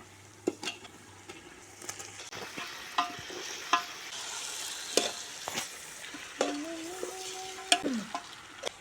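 Chicken fries in a pan with a soft, steady sizzle, punctuated by intermittent clanks and scrapes of stirring, quiet and close without any voices.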